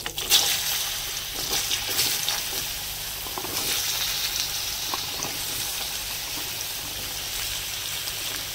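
Kohlrabi pieces frying in a pan in a village kitchen: a steady, bright sizzle throughout, with stirring scrapes and crackles stronger at the start, close and alone without talk.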